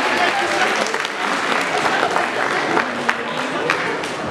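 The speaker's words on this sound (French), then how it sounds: "On applaudit bien fort" A crowd at a French cosplay show claps loudly and continuously, steady applause with scattered sharper claps and faint voices underneath.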